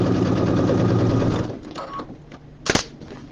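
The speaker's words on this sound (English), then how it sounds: "I'm just sewing around it about 1/8 of an inch from the edge" A sewing machine stitches a vinyl project bag about an eighth of an inch from the edge, a fast, even mechanical rattle for a second and a half before it stops, followed by a few soft clicks and one sharp snap.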